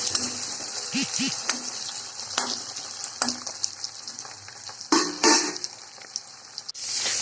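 Onions and tomatoes cook in a pan with a soft, steady sizzle, broken by scattered clinks and scrapes from stirring; no speech.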